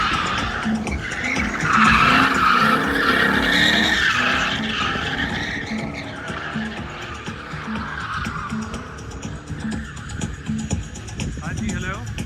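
A Toyota Mark X drifts on a track, tires squealing in long drawn-out skids over a revving engine, with voices talking in the background.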